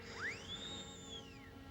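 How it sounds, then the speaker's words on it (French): A single rising, sustained whistle tone blown on a small whistle carved from a plant twig, clear and fairly soft, gliding up and then slowly tapering off over about a second and a half. "C'est le rameau d'une plante, je l'ai sculpté pour en faire un sifflet."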